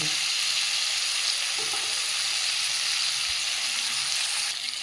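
Pork frying in oil with onion, garlic, ginger and chili gives off a steady, close, unbroken sizzle.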